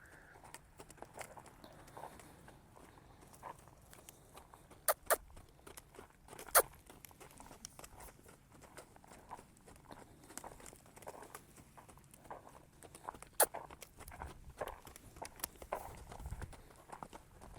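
A frantic, cross-firing horse lopes around an arena, its hooves landing in a quick irregular clip-clop rhythm of soft thuds and occasional sharper knocks over a quiet background.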